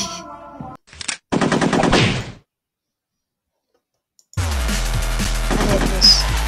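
Gunfire in a video game, a burst of rapid automatic shots, then silence, then sustained firing with low booms. The shots are loud and close.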